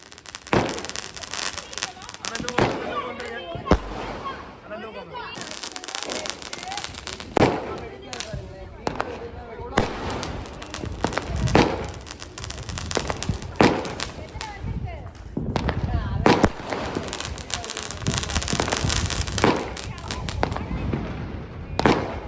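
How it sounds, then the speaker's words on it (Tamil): Diwali firecrackers bursting outdoors, a long run of sharp, loud cracks and pops at irregular intervals, some in quick clusters, with crackling between bursts and occasional voices. "ஆமா ஒன்று ஒரு மாதிரி வெடிக்கும்."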